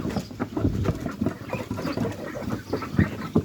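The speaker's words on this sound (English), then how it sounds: "So that is the baby noise of a duckling." A young duckling makes a steady run of soft, rapid peeping quacks, close up and alone, its baby voice not yet the adult call.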